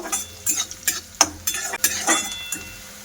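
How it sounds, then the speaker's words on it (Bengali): Chopped onions fry in oil in a pan for a chicken roll filling. A metal spoon scrapes and clinks against the pan in a steady stirring rhythm over a close, continuous sizzle, with no voices. "পেঁয়াজটা হালকা লাল লাল করে ভাজা করে নিয়েছি"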